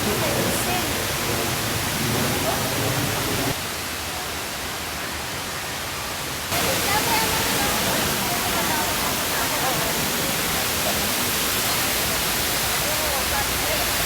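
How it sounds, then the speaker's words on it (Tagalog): Waterfall at Hinugang Taktak, a steady broadband roar of rushing water that drops noticeably for a few seconds midway before returning full and continuous. "nandito na kami sa falls. Falls yan today, no?"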